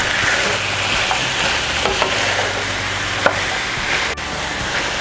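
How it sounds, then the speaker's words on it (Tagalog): Potatoes and carrots frying together in a pan, a loud, dense sizzle with scattered stirring scrapes and clicks, continuous for the whole stretch, no speech. "Tapos, ilalagay ko na rin itong ating patatas. Tsaka pati itong carrots ay ilalagay ko na rin po para sabay-sabay po silang maluto."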